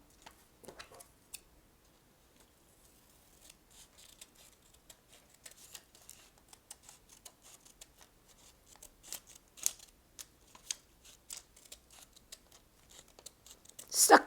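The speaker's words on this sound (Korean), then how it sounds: "얘를 또 가위로 오릴게요." Scissors snipping through folded colored paper during a watermelon paper fan craft, a steady run of quiet, crisp cuts that grows louder and denser toward the end, with no talking.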